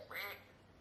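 A LeapFrog educational toy plays a single short duck quack, faint and brief.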